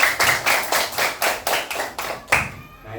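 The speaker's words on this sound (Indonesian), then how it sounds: "Tepuk tangan dulu," Schoolchildren in a classroom clap their hands together in a fast, steady rhythm of about a dozen sharp claps, close and fairly loud, ending in a final burst.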